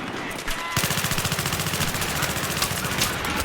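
Sustained automatic gunfire in Battlefield 3 at Ziba Tower, a rapid, evenly spaced stream of loud close shots that continues after a short burst at the start.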